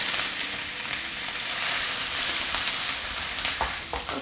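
Fish sizzles and fries steadily in a hot pan just after being flipped, a dense continuous crackle with a few sharper pops near the end, close and loud with no talking.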